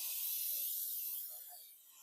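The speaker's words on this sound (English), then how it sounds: "Spray my pan." Cooking spray hisses onto a pan in a soft, continuous burst that tapers off, faint and close.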